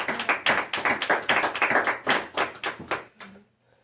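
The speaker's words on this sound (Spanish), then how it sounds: "Un aplauso al Rey de Reyes" Hands clap in a close, rhythmic pattern of distinct strokes, roughly two per second, at a church service, with the claps near and clear before fading out into quiet at the end.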